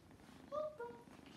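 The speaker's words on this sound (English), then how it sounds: "You can hear him purring." A pet cat purrs softly and close by at home, a low steady rumble under a couple of brief higher tonal sounds, with no talking.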